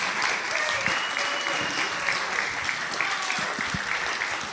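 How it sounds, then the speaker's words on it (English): Continuous applause from a church congregation honoring a man named Steve, a dense steady clatter of many hands with a few whoops and cheers mixed in throughout. "Yes, give him a round of applause."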